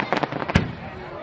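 Fourth-of-July-style fireworks in Negaunee burst in a quick run of sharp cracks followed by one heavier boom, fairly close and loud, with people chatting nearby.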